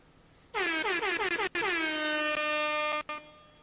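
A loud, blaring air horn sounds alone in bursts: a stuttering start, then a long sustained blast, briefly cut off and resumed.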